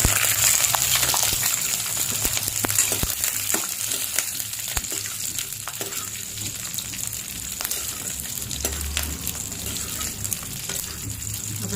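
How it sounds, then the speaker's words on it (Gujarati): Green chillies fry in hot oil in a kadai for Gujarati kadhi, giving a steady, close sizzle and crackle that carries evenly throughout with occasional sharper pops. "તેલ ગરમ થઈ ગયું છે, મરચાં નાખી દઈશું"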